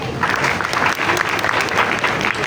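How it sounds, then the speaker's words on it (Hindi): Loud, close applause breaks out in a Python programming class, a dense burst of many hands clapping together for a couple of seconds. "तालियाँ"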